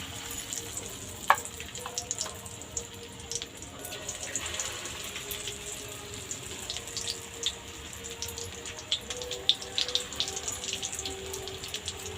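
Chicken pakora pieces fry in hot oil with a low, steady bubbling crackle and scattered sharper pops and clicks, fairly quiet and heard up close with no talking.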